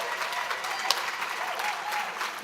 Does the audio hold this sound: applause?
yes